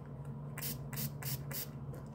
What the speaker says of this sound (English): this is just a gorgeous shimmery spray here